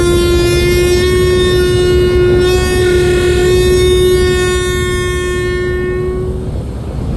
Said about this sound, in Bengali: সম্পদ লঞ্চ হুইসেল দিয়ে কর্ণফুলি তিন লঞ্চকে তার উপস্থিতি জানান দিচ্ছে